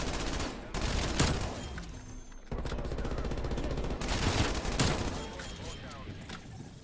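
A PPSh-41 submachine gun fires in Black Ops Cold War, loud sustained automatic bursts filling the clip with brief gaps between strings of shots, mixed with game sound effects.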